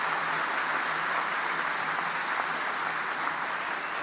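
Large crowd applauding at the commissioning ceremony of the aircraft carrier USS Gerald R. Ford, a dense, steady roar of clapping sustained throughout, broad and even with no voices standing out.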